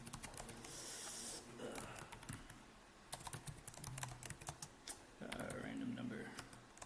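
Computer keyboard typing in bursts of quick clicks and clacks, close and fairly quiet, with pauses between flurries and some soft breathing or background noise.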